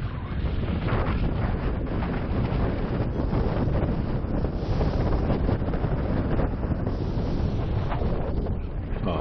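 Steady, loud wind rushes across the microphone throughout as a paraglider comes in to land in a narrow rice paddy, a continuous broadband roar with slight gusting swells and no speech.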